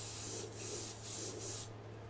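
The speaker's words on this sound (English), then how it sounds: "Test spray." An airbrush spraying black paint gives short hissing bursts, four close pulses with brief gaps, then cuts off, over a low steady hum.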